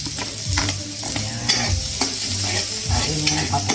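Garlic hits a hot pan for ginisang ampalaya, giving a close, loud sizzle with repeated scraping stirs in an uneven rhythm.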